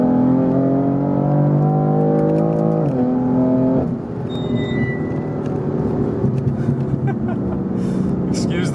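BMW F8X with secondary catalytic converter deleted, accelerating hard from third gear with the windows up, heard from inside the cabin: a loud, steady engine drone rising in pitch, a gear change near three seconds, then continued pull.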